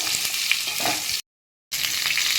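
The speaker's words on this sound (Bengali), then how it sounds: "এবারে আমি আমটা ছেড়ে দিচ্ছি, আমগুলোকে ছেড়ে দিলাম, একটুখানি নাড়িয়ে নেব।" Mango pieces sizzle steadily in hot oil with dry chili and bay leaf for a pickle, with a faint scrape of stirring, broken by a short silent gap.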